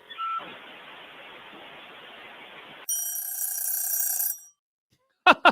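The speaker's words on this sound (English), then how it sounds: "it ends with the phone ringing" A telephone bell rings in one loud, sustained electronic burst of about a second and a half, after a stretch of hissing noise, then cuts to silence before a brief sharp sound.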